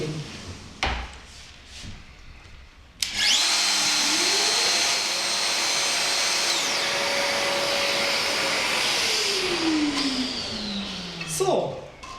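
A Festool VS 600 jointing system cuts wood with dust extraction running, starting with a sharp clunk, then a loud steady whine of cutter and suction that rises and falls in pitch before winding down with a rattle.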